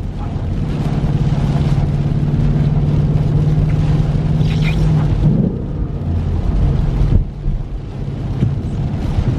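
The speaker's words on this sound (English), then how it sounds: "There's a little exhaust sound for y'all." A Ford Mustang GT exhaust rumbles loud and close in heavy rain, a low steady drone that rises briefly before settling, with wind buffeting the microphone throughout.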